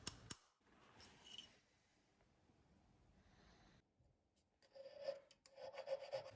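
A metal file rasps against a white gold diamond ring, giving quiet, close scraping strokes that come in uneven bursts and grow more rhythmic and stronger toward the end, with no voices.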